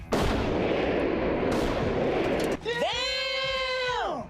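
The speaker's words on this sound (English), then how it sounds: "For comparison, here's how a Hummer handles a blast of half that size." Roughly ten pounds of TNT blasts beneath a Hummer with a sudden, loud, booming roar that rumbles on for over two seconds before giving way to a wavering, tonal cry.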